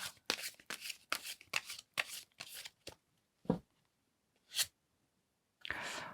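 Tarot cards shuffled by hand in quick repeated riffling bursts, close and crisp, followed by a few slower isolated shuffles with short pauses between them.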